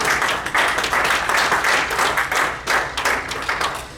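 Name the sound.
congregation applauding in church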